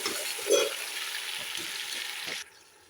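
Beef pieces with half a teaspoon of cumin hitting hot oil in a pot, a close steady sizzle with a brief louder burst of stirring early on, then cutting off abruptly near the end.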